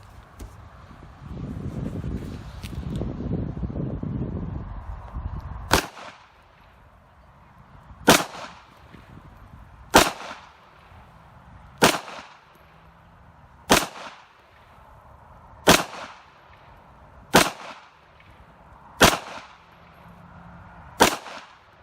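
A Kimber 9mm pistol fires Acme 124gr round-nose bullets, about nine sharp, loud shots spaced roughly two seconds apart, each with a short ringing decay, after a stretch of low rumbling handling noise.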